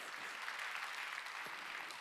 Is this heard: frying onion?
no